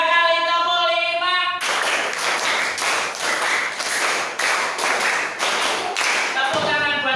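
A group of people in a classroom or training session claps in unison, giving a run of sharp, evenly spaced claps counted off in sets, loud and close, with a voice speaking at the start and end.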